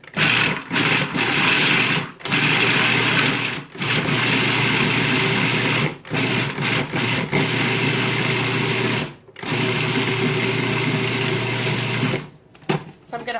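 A food processor pulses nuts into a coarse paste for a pie crust, a loud steady motor whir running in several bursts separated by brief pauses, close up and without talk.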